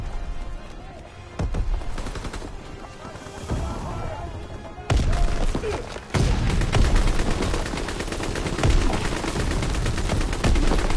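Rapid gunfire from the WWII-era shooter game Call of Duty: WWII, dense bursts of automatic and rifle shots with explosive cracks, growing louder and more continuous in the second half, with no speech over it.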